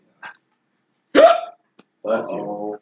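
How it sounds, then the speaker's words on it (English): Hiccups in a casual group conversation, several short separate bursts: a faint one, then a louder sharp vocal catch, a tiny click and a longer voiced sound, close to the microphone. "Do the hiccups last long?"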